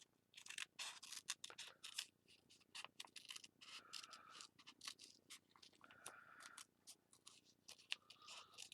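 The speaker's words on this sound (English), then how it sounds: "the freezer paper gives it some stability to trim" Scissors trimming flimsy fabric backed with freezer paper, a close run of crisp snipping cuts in quick irregular bursts with short pauses between them, heard alone without talk.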